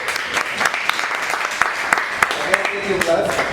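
An audience applauds in a coaching session, dense clapping running steadily throughout with a few sharper individual claps standing out, while some voices murmur faintly underneath.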